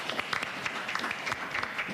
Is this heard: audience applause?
yes